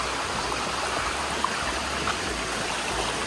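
Water pours from a small dam on a farm in the Konkan, a steady broadband rushing flow, close and even throughout with no breaks.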